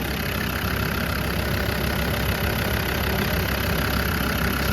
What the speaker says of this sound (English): fired up the engine there